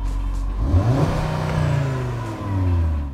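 A new Audi RS3 engine revs up close and loud, its pitch climbing steadily and then holding near the top in a sustained drone against the soft limiter, with a brief dip before it pulls high again; no talking.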